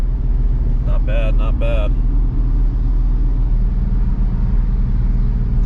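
A BMW E36 fitted with a lightweight flywheel and clutch drives along with a loud, steady engine drone filling the cabin, and someone speaks briefly over it.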